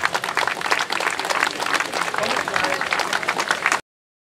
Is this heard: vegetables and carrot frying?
no